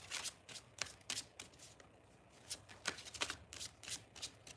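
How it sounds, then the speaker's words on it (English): Decks of reading cards being shuffled close by, a run of crisp riffling bursts repeating in an uneven rhythm on their own, with no voices. "I'm just getting the decks shuffled."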